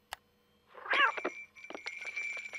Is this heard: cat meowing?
yes